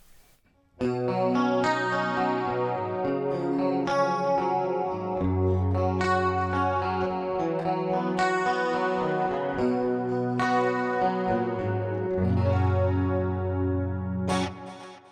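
A distorted electric guitar plays sustained chords through a Soundtoys plate reverb, with a washy, shimmering tail, the notes ringing out and blending before a sharp final stop.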